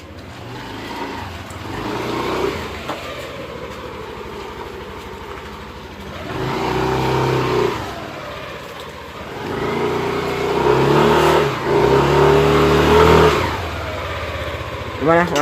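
A Yamaha NMAX or Aerox 155 scooter engine on a test ride, revving repeatedly in rising and falling sweeps, close and fairly loud, with speech over the engine.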